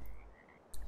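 Frogs croak in the fishing game Russian Fishing 4, a short, close croaking call at the end of a brief moment of quiet pond ambience.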